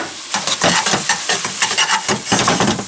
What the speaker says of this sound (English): I'm just gonna melt about 2 tablespoons of butter, and we're just gonna warm up our crab meat